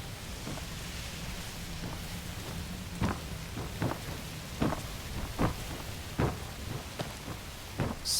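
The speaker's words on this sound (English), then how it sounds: "It better get inside before this downpour soaks you through." Heavy rain pours down on a deserted riverside town in the video game Where Winds Meet, a dense, constant hiss broken by repeated sharp cracks and rumbles of thunder, with no speech.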